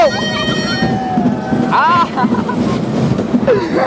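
A moving passenger train gives a steady, loud rumble and rattle, with squealing tones from the wheels or rails and voices talking over it.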